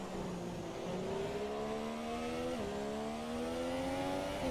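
A racing car engine in a Silverstone race video game drones steadily at high revs, its pitch climbing through gears with a brief dip at a shift, continuous and fairly quiet with no talk.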